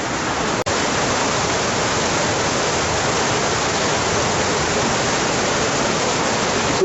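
An underground river rushes through a tunnel in a loud, unbroken roar of churning water, dense and close, with a single sharp click near the start.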